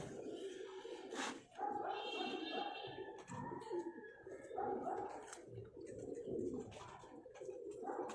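Pigeons of a Karachi fancier's Dab and Missay breeds coo in a loft, low rolling calls rising and falling steadily over eight seconds amid busy background noise, with a few brighter chirps and occasional faint voices.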